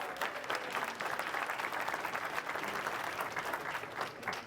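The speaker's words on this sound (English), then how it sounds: "Let's give her a round of applause, by the way." An audience claps steadily for several seconds, a dense, even patter of many hands without voices.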